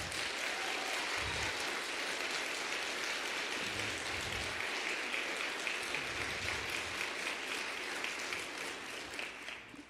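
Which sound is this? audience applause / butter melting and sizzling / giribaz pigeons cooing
audience applause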